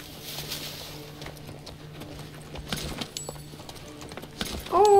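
Hooves of a horse in the video game Assassin's Creed Origins clip-clop at an easy walking pace, fairly close, with a light background hum and a short, high whinny near the end.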